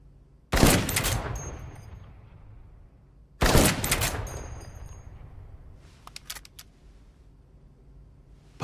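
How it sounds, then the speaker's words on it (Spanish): Gunfire from above in the Dead Rising Deluxe Remaster game: two loud, sharp bursts of shots a few seconds apart, each trailing off into a decaying echo, followed by faint clicks and rattles. "Alguien está disparando desde arriba."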